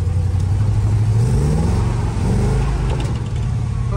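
A car engine revs hard as its wheels lose grip in snow, the pitch climbing and falling in uneven surges, loud and close throughout with no talk over it.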